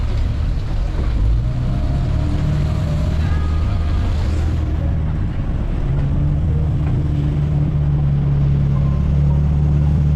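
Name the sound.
jet boat speeding on Sydney Harbour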